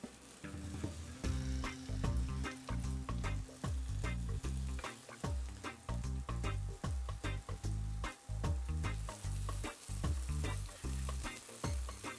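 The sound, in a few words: steaks frying in olive oil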